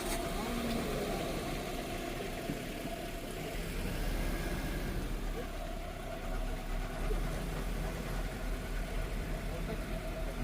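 Safari vehicles idle on a track in Bandhavgarh National Park, a low, steady engine rumble with a faint, even drone throughout.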